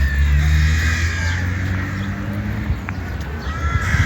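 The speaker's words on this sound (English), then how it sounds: "A lot of crows, apparently." Noisy crows caw in a few harsh calls and some overlapping calls against a loud, rumbling outdoor background, with one sharper call standing out near the end.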